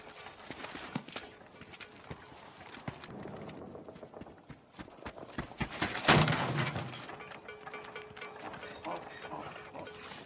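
Irregular donkey hoof clops on hard ground, fairly quiet, mixed with rustling and clattering movement.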